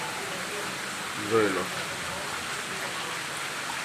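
Steady rain falling outdoors over an open plot with grass and a jujube tree: an even, moderate hiss throughout, with a brief spoken phrase near the middle.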